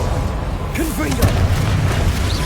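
A Confringo spell explosion in the video game Hogwarts Legacy booms loudly and steadily over a busy mix of other spell and combat sounds, with a voice calling out partway through.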